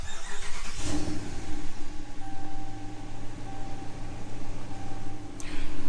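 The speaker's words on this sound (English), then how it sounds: "let's go ahead and try starting it up" A car engine cranking and catching after its battery was reconnected, settling into a steady idle hum close by, with a short burst of noise near the start and no speech.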